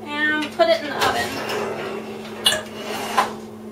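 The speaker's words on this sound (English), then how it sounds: "Now I'm going to put my top back on. And put it in the oven." A pumpkin lid set back onto a baked pineapple and apple pumpkin dish and the dish slid into an oven, giving a few sharp clatters and knocks over a steady kitchen hum with voices talking.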